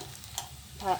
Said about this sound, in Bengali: আলুর সাথে ভালো মতন মিশে ভালো মতন ভাজা ভাজা হয়ে গেছে